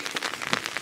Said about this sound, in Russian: Опять начался дождь.